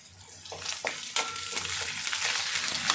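Potatoes frying with ginger garlic in a pan, a crackling sizzle that builds after several stirring knocks and scrapes, then holds steady and fairly loud.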